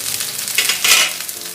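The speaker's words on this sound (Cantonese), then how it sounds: "佢而家仲有啲油喺度煎緊" Pan-fried jiaozi filled with meat and vegetables crackle and sizzle in a little oil in a covered pan on medium heat, a close, lively frying hiss with bright spits rising and falling.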